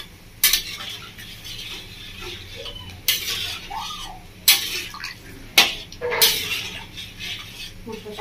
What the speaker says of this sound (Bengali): ঝোলটা দিয়ে খুব ভালোভাবে নাড়িয়ে নেবো